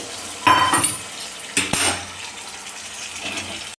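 Hot water goes into meat gravy in a pan with two loud bursts of sizzling splash and clatter, then a quieter simmering hiss and light stirring before an abrupt stop, with no voices.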